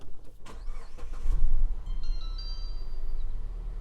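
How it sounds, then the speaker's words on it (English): A 2021 Mazda CX-9 Carbon Edition starts with a brief crank that catches and settles into a low, steady idle rumble, while faint electronic chime tones sound in the cabin. "So I'm going to go ahead and start the car"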